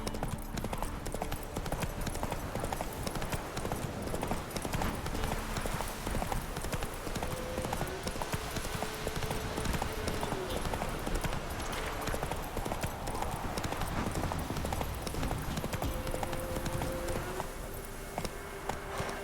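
Roach the horse trotting in The Witcher 3, with steady clip-clop hoofbeats repeating close by throughout, set over a continuous game soundscape and music, and with a brief whinny.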